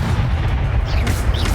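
A spell impact from the video game Hogwarts Legacy lands as a dense, booming burst, with a heavy low rumble that fills the whole moment and a couple of brighter whooshing streaks over it. There is no talk.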